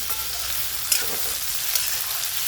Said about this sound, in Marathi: तर चांगला मोठा गॅस करून मी असं मस्त परतून घेतल्यात भाज्या